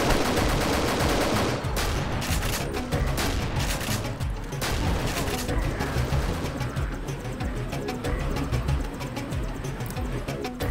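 Gunfire in the video game Deus Ex: repeated loud gunshot bursts and volleys crackle through a dense, busy mix of game sound that continues for the whole stretch.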